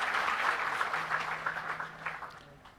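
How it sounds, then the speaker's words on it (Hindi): A crowd claps for an honoree at a ceremony for newly selected primary school teachers, a brief burst of dense, moderately loud applause that tapers off within a few seconds. "जोरदार तालियां प्रेमचंद जी सांखला के लिए।"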